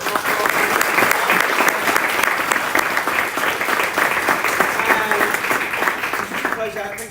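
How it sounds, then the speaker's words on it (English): Sustained audience applause for Mark at the close of a London Tableau user group fireside chat evening, a dense steady clapping from a roomful of people lasting throughout, tapering slightly at the end. "can we all get a big round of applause to Mark?"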